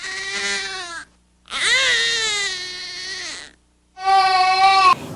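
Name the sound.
baby's colic cry, high-pitched and intense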